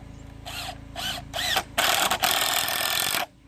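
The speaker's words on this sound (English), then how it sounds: "drive your screws in until your front and back part of the bed frame is solidly put together" A power drill drives screws into a rustic wooden bunk bed frame, three short whirring bursts followed by a longer, louder sustained run as the screw bites into the wood.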